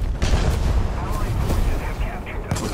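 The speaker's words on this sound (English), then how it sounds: "Artillery strike incoming." Artillery strike explosions in the War Thunder video game, several heavy booms and rumbling blasts over a few seconds, with a voice talking over them.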